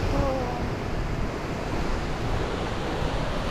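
Ocean surf breaking steadily along Shipwreck Beach on Kauai, a continuous broad wash of waves with wind buffeting the microphone, fairly loud and unbroken, with no speech.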